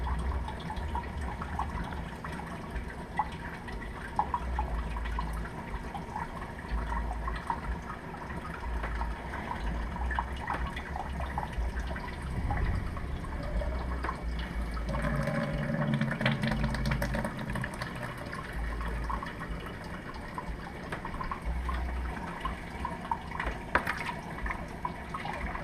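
Water filling a media reactor for a saltwater aquarium, a steady bubbling, gurgling flow with small drips and splashes throughout.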